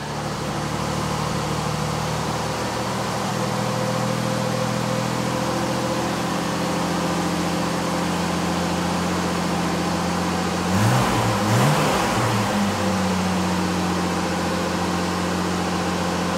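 Mercedes W116 engine idling slightly fast after a carburettor cleaning and adjustment: a steady, even hum and drone throughout, close, with a brief rough wobble in the middle and no talk.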